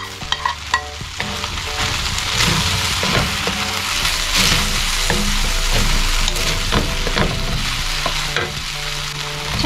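Beef browning in a hot pan for a vegetable sauté, with continuous loud sizzling and frying crackle and repeated scrapes and knocks of a spatula stirring the meat throughout.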